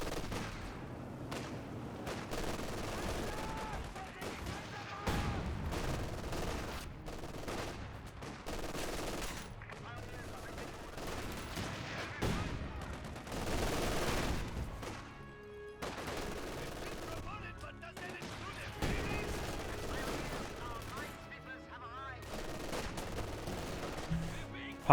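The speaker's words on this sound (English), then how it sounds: "Grenadiers inside the garrison, firing away" Garrisoned Grenadier infantry firing from a building in Company of Heroes 2, rapid bursts of rifle and machine-gun fire crackling in repeated volleys over an ongoing battle, dense and continuous with short lulls.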